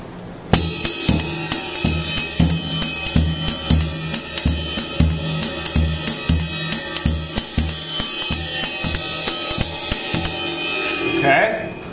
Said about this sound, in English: you can also play that same accent pattern and move it to the bass drum